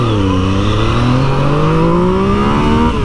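A 2020 Yamaha MT-09 motorcycle engine revs and accelerates, a loud, close, steadily rising engine note climbing through about three seconds with no voices.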